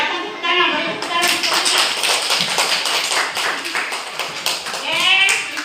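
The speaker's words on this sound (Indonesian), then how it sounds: "Silakan tepuk tangan, beri tepuk tangan." A class of students in a lesson gives a round of clapping, many hands patting in a dense, uneven patter that carries on steadily with voices mixed in, louder at the start and end.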